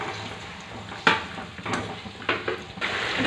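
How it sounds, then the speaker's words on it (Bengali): Water poured into a pan of sautéed chicken for chicken biryani, a steady sizzle and bubbling frying sound punctuated by several sharp splashing bursts and clinks, close and moderately loud. "এবারে অল্প করে জল দিয়ে দেব যাতে চিকেনটা ভালোভাবে সেদ্ধ হয়ে যায়"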